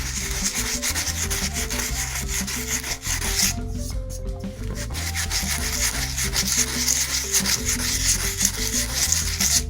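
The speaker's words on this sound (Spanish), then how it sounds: "Aquí le vamos a lijar para que se quite lo del cuchillo" Steady scratchy rubbing of sandpaper on a plaster piggy bank, continuous back-and-forth strokes up close, with faint background music underneath.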